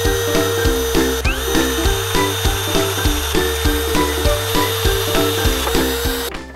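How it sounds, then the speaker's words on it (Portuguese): A power drill bores holes into a wooden board for a floating bedside table, its motor whining in steady, regularly pulsing cycles, loud and close, then cutting off at the end. "passamos então a fazer os nossos 4 furos"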